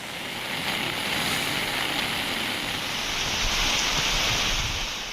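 Heavy rain pouring down in coastal Karaikal, Tamil Nadu, under a stormy, rough sea: a dense, steady wash of broadband hiss that swells slightly toward the end, with no voices.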